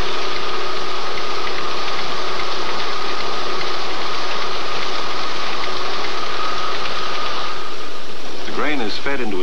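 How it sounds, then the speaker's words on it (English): Flour milling machines crack wheat kernels between steel rollers in a large 1950s Canadian flour mill, producing a steady, dense mechanical drone with a constant whine. A voice begins talking over it near the end. "Fed into a series of milling machines where the kernels are cracked between steel rollers"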